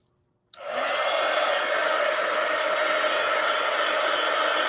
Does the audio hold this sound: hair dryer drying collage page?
yes